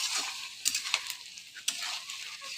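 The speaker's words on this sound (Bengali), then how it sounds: "এই যে আমি আমার তরকারিটা কষাইতেছি।" Curry with jackfruit seeds and dried fish being sautéed in a pan, with close bright sizzling and a few quick scraping stirs, and no voices.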